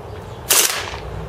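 A Marushin M2 airsoft carbine fires BBs, a single sharp crack that bursts out and then fades quickly over a low background hum, loud and close.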